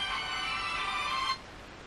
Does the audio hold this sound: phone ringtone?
yes